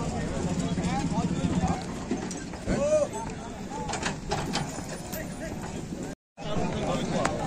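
Murrah buffalo arriving at a livestock market, their hooves clopping on hard ground amid a busy hubbub of crowd chatter and voices nearby.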